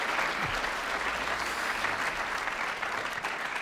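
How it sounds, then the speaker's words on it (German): Audience at a literary reading breaks into steady, sustained applause, a dense even wash of many hands clapping throughout, with no voices rising above it. "Sie dürfen gerne klatschen."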